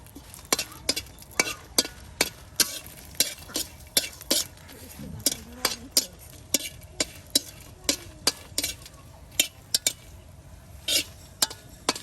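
Dried red chilies frying in oil in a village kitchen, a soft sizzle under a rapid, regular series of sharp scraping and clinking strokes from a utensil against the pan, repeated throughout.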